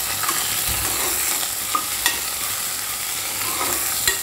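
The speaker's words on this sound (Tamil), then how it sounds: "கருவேப்பிலை, கொத்தமல்லி, புதினா எல்லாத்தையும் நல்லா கிளறி விட்டுக்கோங்க." Curry leaves, coriander and mint being stirred in a frying pan while making a pea chicken curry, with a steady close sizzle and a few sharp scraping clicks from the stirring, no voices.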